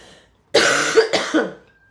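A single harsh cough bursts out close by, breaking into two or three rough throaty pulses after a moment of silence.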